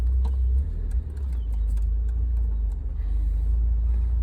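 A 1984 Spider shifts into first gear over its steady low engine rumble, heard close with a brief dip near the one-second mark and no voices.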